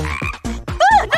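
A little frog gives a few quick, loud croaks close by, with a brief gap between them and no speech.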